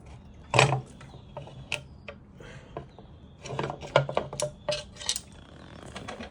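Clutch cover being worked off a 2019 Kawasaki ZX10R: scattered metallic clanks, taps and scrapes close by, with a sharp knock early and a busier cluster of clinks later.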